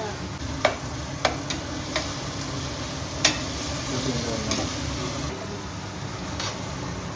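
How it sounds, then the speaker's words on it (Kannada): Ginger-garlic paste sizzling steadily in a pan for chicken biryani, a continuous close fry with a few sharp clicks of a spoon stirring and scraping along the way. "2 ಸ್ಪೂನ್ ಶುಂಠಿ ಬೆಳ್ಳುಳ್ಳಿ ಪೇಸ್ಟು. ಲೋ ಫ್ಲೇಮಲ್ಲಿ ಬಾಡಿಸ್ಕೋಬೇಕಾ ಇಲ್ಲ ಹೈ ಫ್ಲೇಮಲ್ಲೇ ಮಾಡಿದ್ರು ಆಗುತ್ತಾ?"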